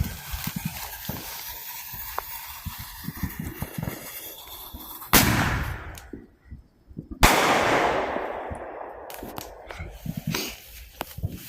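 A firework, a quarter stick taped up, blasts twice with sharp, loud booms that ring out and decay, set against outdoor night crackle and faint activity before the first bang.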